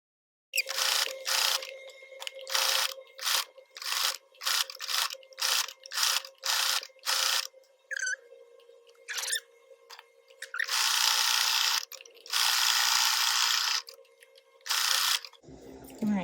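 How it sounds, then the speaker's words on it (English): Sewing machine zigzag-stitching denim on the outside of a tote bag made from old jeans: a series of close, loud mechanical stitching bursts separated by short pauses, with two longer runs near the end. "Now I'm going to stitch this. Okay, I'm going to zigzag it on the outside of the bag."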